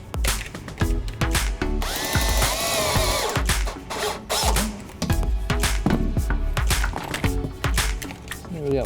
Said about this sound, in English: use our clamp and hex tech screw and mount it to this cross member.